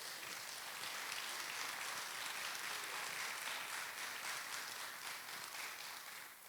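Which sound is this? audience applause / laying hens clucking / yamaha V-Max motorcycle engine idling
audience applause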